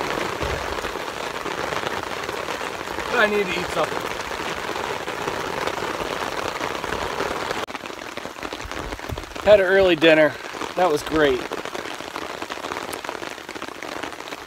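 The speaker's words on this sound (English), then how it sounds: "The rain is actually getting heavier and it's getting windier." Steady rain patters on a tarp at a wet campsite, a dense continuous hiss throughout, while someone talks briefly over it.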